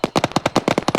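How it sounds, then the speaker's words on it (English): Rapid automatic gunfire rattles in Arma 3, a close, loud burst of about a dozen evenly spaced shots, with no talk. "We advised this gunfire coming from our southeast"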